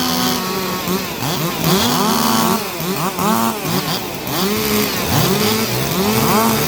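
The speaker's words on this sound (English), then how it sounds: "You have 30 seconds to warm up your saws." Several chainsaws rev up and down together while warming up at a sawing competition, with rising and falling engine whines overlapping loudly and close.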